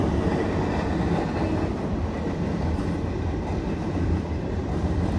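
A northbound CSX mixed freight train with a mid-train DPU in Kingston, New York rolls past at close range, a dense, loud continuous rumble and wheel clatter with no voices.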